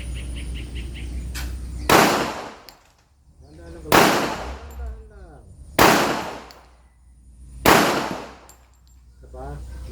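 Four loud pistol shots at a target practice range, spaced roughly two seconds apart, each a sharp crack with a ringing tail, against a steady low background hum.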